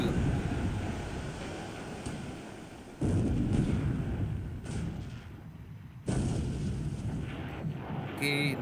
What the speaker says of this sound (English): next 5 inch shell hit